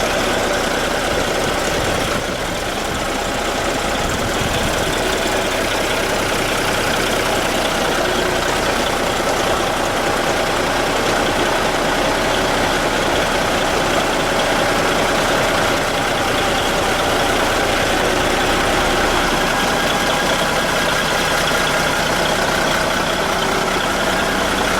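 A 1986 Kenworth heavy hauler truck idles nearby, its diesel engine holding a loud, steady low rumble and clatter throughout while air pressure builds, with no talk.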